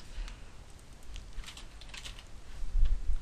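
Keys clack steadily on a computer keyboard as code is typed, a run of quick irregular taps, fairly close and moderately loud, with no voices.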